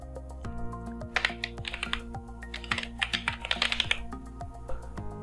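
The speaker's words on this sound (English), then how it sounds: "So here user types the host name." Rapid clattering keystrokes on a computer keyboard, close and clear, in bursts of quick typing with short pauses.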